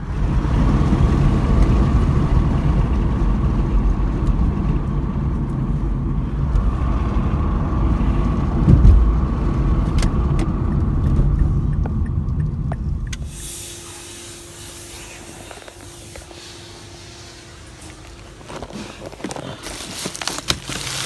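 Steady low engine rumble and road noise inside a moving car for about thirteen seconds, then the sound drops to a quieter hum with a few light knocks and rustles near the end.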